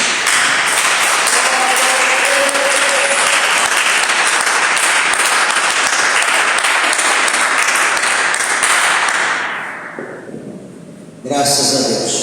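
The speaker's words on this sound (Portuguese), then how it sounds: "dê uma salva de palmas para Jesus" A church congregation applauding Jesus during a healing service, a loud, sustained wall of clapping that fades out near the end before other sound abruptly resumes.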